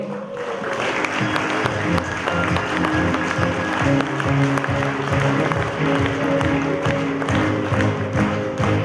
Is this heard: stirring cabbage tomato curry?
no